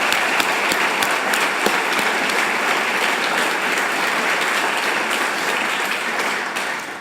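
Sustained applause from an assembly crowd welcoming trustees at a groundbreaking ceremony at Simon Skjodt Assembly Hall, dense and loud throughout, tapering slightly toward the end.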